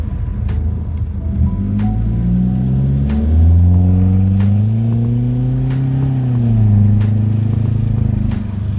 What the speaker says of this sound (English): we're gonna try and start the car